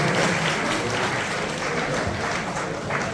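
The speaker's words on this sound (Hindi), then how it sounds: "तालियां बजती रहे," Steady, sustained applause from a gathered crowd at a Raksha Bandhan ceremony in Gonda where protective-thread kits are handed out to journalists; dense clapping fills the whole moment at an even level without a break.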